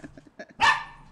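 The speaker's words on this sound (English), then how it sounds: "I think Iceman's barking at you" A dog barks once, sharp and close, after a few faint softer sounds, with no talk.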